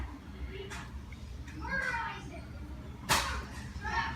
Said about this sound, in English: Can you hear the kids playing in the background?